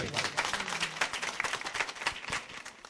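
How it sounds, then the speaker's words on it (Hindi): An audience claps to welcome the chief guest at a Deepotsav mushaira in Jabalpur, a short burst of dense, scattered hand claps close by that tails off slightly toward the end. "तालियों से इस्तकबाल करें।"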